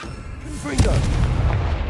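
A Confringo blasting spell explodes in the video game Hogwarts Legacy: one sharp boom lands partway through and is followed by a sustained low rumble, set in game action with a voice shouting the spell just before it.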